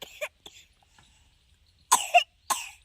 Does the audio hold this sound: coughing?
yes